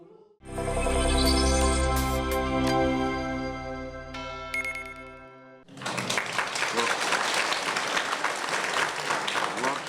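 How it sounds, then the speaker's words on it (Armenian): Courtroom applause as those present welcome a release from detention, a dense burst of clapping that starts abruptly after a sustained bell-like musical chime and continues to the end. "Ծափերով դատարանի դահլիճում ներկաները ողջունում են Կալանքից Լիդիա Մանթաշյանի ազատվելը"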